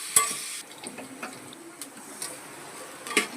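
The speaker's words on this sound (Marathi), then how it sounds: "कांदा, कांदा व्यवस्थित परतून घेणार आहोत." Chopped onions sautéed in a pan with curry leaves make a soft continuous sizzle punctuated by several sharp spatula taps and scrapes against the metal.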